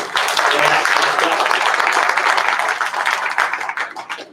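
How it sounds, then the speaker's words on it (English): Audience applause after a talk at a conference, a dense burst of clapping that starts at full strength and thins out toward the end, with some voices mixed in. "give them a round of applause"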